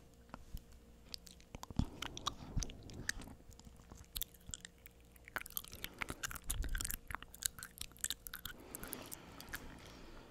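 Someone chews a bite of natto close to the microphone, with soft, sticky, wet crunching and smacking sounds in an irregular rhythm over a quiet background.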